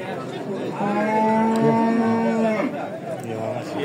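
Close cow at a livestock market giving a long, drawn-out moo of about two seconds, with a second softer lowing after it, over a steady background of crowd chatter.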